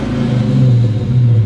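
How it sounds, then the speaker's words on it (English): A 1994 Ford 5.0 Cobra engine with an uneven idle, droning loud and close in a brief steady low rumble with a slight rise in pitch, no voices. "If I rev it, it might hesitate"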